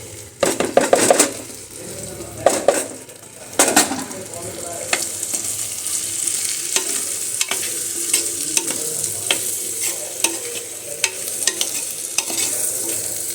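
A mixture stirred and fried in a clay pot, starting with loud scraping and clanking strokes of a spoon against the pot, then settling into a steady close sizzle marked by light, repeated taps.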